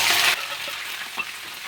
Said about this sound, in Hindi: तो ऑयल पहले से ही गर्म है। अब इसमें हम डाल देते हैं सबसे पहले 1 चम्मच जितना जीरा